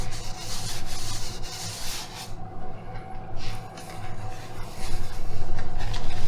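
A sticky tack rag is wiped over a surface in a model aircraft shop, giving a continuous close rubbing and swishing with uneven strokes, over a steady low background hum.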